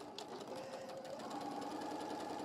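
A sewing machine stitches fabric for an Easter egg, a steady rapid mechanical whir close by that runs without a break, with no talk.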